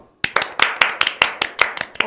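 Several people clap in unison to open a Korean talk show episode, a quick series of about nine sharp, close claps in a loose rhythm, with no talk over them.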